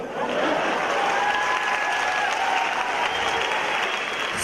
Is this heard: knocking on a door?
no